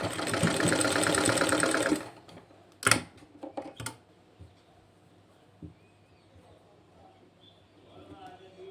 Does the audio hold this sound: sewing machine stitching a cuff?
yes